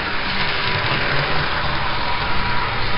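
A Hess model train engine runs a lap on freshly cleaned track, giving off a steady, even motor whir and rail rumble that holds close and constant throughout, with no voices.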